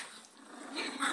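Dogs growl in a brief, faint, low rumbling snarl that builds slightly toward the end, heard alone and at a modest distance.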